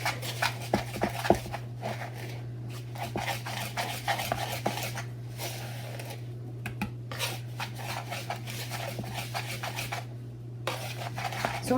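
Brown sugar and cinnamon being whisked together in a bowl for cinnamon roll filling, a steady scraping, clinking whisk against the bowl under a constant low hum, with no talking.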